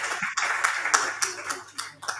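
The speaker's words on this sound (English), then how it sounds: "So I think we need a round of applause for that." Listeners at a conference panel on generative AI clap briefly for the panelists, a short, thin round of applause with distinct separate claps at a moderate distance.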